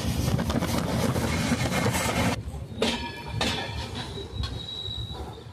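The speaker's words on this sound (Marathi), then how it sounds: "ट्रेनचा प्रवास चालू झालेला आहे." A train travels on rails through the hilly Konkan region toward Goa, a loud, steady rumble with squealing wheels and clattering carriages heard close up without talk.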